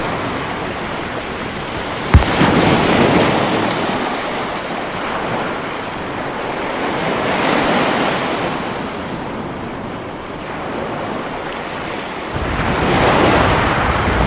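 Ocean waves of the Bay of Bengal off the Sundarbans surge and recede in slow swells, with wind rumbling against the microphone and a sharp knock near the start; no talking.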